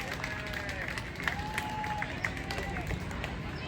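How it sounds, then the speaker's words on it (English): An audience at a Science in the Park event applauds as a keynote speaker takes the stage, a brief burst of clapping mixed with cheers and chatter. "please give her more applause than you gave me"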